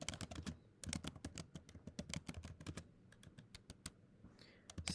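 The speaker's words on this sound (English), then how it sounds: "then type in your home address" Rapid keystrokes on a computer keyboard as an address is typed, dense bursts of close, crisp clicks with brief pauses between words, quiet and without speech.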